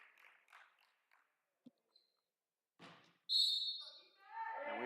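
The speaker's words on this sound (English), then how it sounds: "the referees blow the whistle" At a women's college basketball game, a referee's whistle sounds in one sharp, loud blast, followed by crowd and court noise, after quieter moments with faint bounces and chatter.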